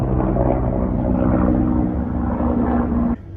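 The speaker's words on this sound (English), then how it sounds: "It's a helicopter." A helicopter passes overhead outdoors, a steady, moderately loud rotor drone that holds for about three seconds and then drops away abruptly.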